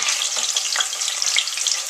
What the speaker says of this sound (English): So as you can see in the pot, they are frying.